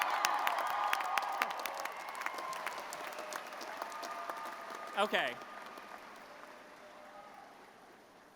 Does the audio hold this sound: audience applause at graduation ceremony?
yes